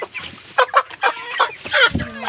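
Chickens cluck repeatedly at close range, several birds overlapping in uneven bursts of short calls with no talking.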